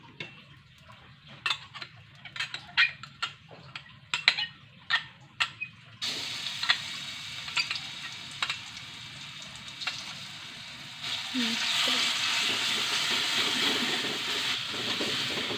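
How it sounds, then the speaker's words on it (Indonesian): Spices for vegetable and meatball capcay hit hot oil in a wok and stir-fry, starting with scattered ticks and pops, then building into a sustained sizzling hiss that grows louder near the end. "Diosreng-osreng terus sampai baunya harum dan bawangnya matang"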